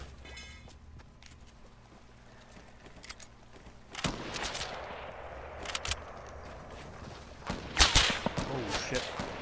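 Gunfire in a Fortnite Battle Royale match: scattered sharp shots and bursts that grow louder and denser toward the end, with players talking over it.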